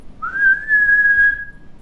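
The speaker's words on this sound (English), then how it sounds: "I'm seeing a woman whistle." A single clear whistled note, rising slightly then held steady for over a second before fading, close and fairly loud with no talking.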